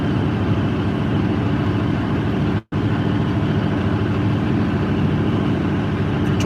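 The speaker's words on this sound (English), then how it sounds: "So here I am driving this tractor myself." A John Deere 8850 V8 tractor engine drones steadily while being driven, a loud, continuous low rumble heard from the cab that cuts out for a split second partway through.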